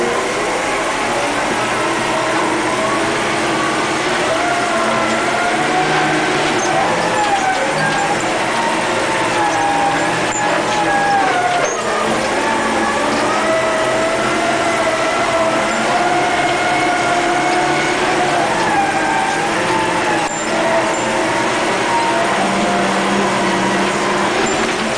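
A scraper earthmover drives in top gear across a work site, its heavy engine and drivetrain giving a loud, steady, unbroken roar throughout with no speech.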